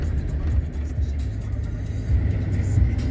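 A Chevy Silverado pickup truck drives through a blizzard on an evening commute, giving a steady low engine rumble and road hum with slight swells in intensity, heard alone without speech.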